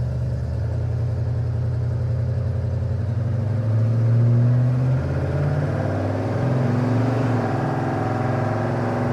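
The engine of a 1972 GMC Sprint pulls from inside the cabin while driving, a loud low drone that swells as it eases into acceleration and then settles.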